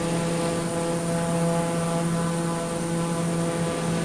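A steady, unbroken drone from the TBM 930 turboprop engine in Microsoft Flight Simulator 2024, a constant hum with a faint high whine over a low rumble, with no voices over it.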